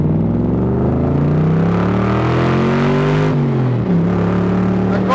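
A 1965 Shelby Cobra replica accelerating hard, its engine note climbing loud and close through a rev, briefly dropping at a gear change, then pulling again with a deep throaty roar.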